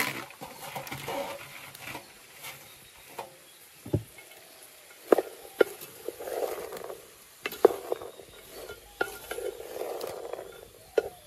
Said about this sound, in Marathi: ही भाजी मी आता बरी ढवळून घेतली